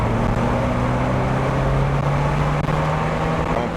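A 1991 Alfa Romeo Spider with a performance chip fitted pulls in third gear: a loud, steady engine drone with a sustained low hum and road roar heard from inside the car, no voices.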